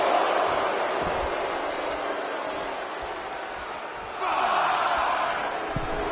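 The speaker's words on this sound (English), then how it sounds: "Shinsuke Nakamura playing to the crowd now" Arena crowd in the WWE 2K25 wrestling video game cheering steadily in a broad, distant roar, swelling louder in the last couple of seconds with scattered shouts.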